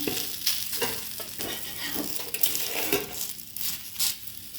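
Beetroot cutlets fry in a pan with a steady close sizzle, broken by occasional scraping and clinks of a utensil turning them.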